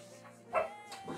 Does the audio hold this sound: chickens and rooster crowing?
no